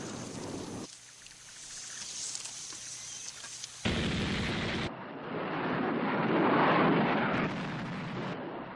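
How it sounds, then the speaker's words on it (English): Anti-aircraft guns and explosions in Vietnam War footage, a dense rumbling barrage of blasts and firing that swells and fades, loud and continuous. "SAMs and anti-aircraft guns were reinforced as the raids went on."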